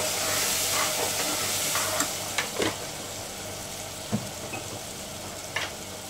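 Turmeric powder is stirred into a curry frying in a pan, with a continuous sizzle and hiss and a few scraping knocks of the spoon, close up and with nobody speaking.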